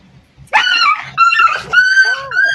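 A dog whimpers and yips in a run of high, whining cries while being fed biscuits, with short breaks between the cries and a faint low rumble underneath.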